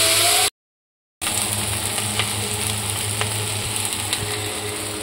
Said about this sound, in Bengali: তো এগুলো এখন ফ্রাই করব